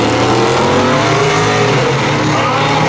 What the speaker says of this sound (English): he's spinning the wheels, trying to light him up a little bit